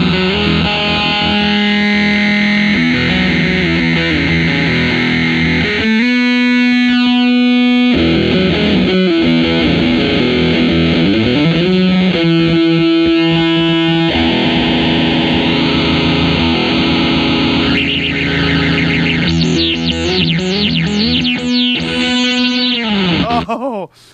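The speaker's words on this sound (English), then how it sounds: "it becomes a sweet, sweet distortion pedal." Electric guitar played through a Subdecay Harmonic Antagonizer distortion pedal with the sensitivity turned down, giving a loud, thick, fuzzy tone with sustained chords and riffs and wah-like sweeps, steady and close with no talking.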